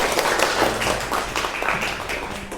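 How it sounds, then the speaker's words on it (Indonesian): An audience clapping steadily for a few seconds, a dense, close patter of hands filling the room with little else beneath it. "Beri tepuk tangan dong."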